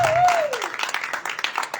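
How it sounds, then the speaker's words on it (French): An audience at a live show applauds, scattered claps building into an uneven patter, with a voice trailing off at the start. "on peut applaudir Magenta"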